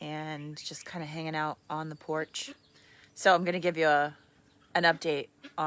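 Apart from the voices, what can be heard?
No distinct noise like a dog, phone or traffic.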